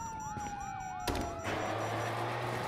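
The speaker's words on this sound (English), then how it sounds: "you hear that? Sirens." In the video game GTA V, a wailing police siren sweeps up and down, then a sharp crash cuts in and a harsher, noisier siren tone takes over, loud and close.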